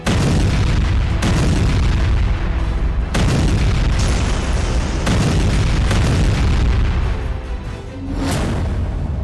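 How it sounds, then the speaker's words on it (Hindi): Israeli army strikes in Beirut set off loud, heavy explosions, a rolling series of deep booms with sharp bursts every few seconds and no gap between them. "बेरूत में इजरायली सेना का बारूदी जलजला"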